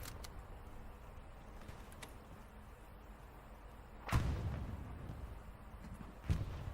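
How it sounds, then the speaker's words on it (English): Tank rounds fire across a World War II battlefield on the Utah map in Hell Let Loose: two distant, muffled booms a couple of seconds apart rise over a quiet, low background rumble. "You can see some tank rounds going back and forth across his vision."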